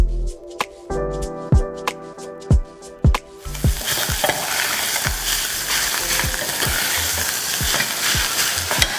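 Chopped onion sizzles steadily in a hot pan while a utensil knocks against the metal with sharp, irregular taps, the frying hiss thickening after the first few seconds, close and fairly loud with no voices.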